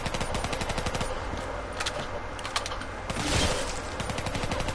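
A new gun in a zombies video game DLC fires in rapid automatic bursts, loud and close, with dense crackling rounds through most of the clip and a heavier burst near the end.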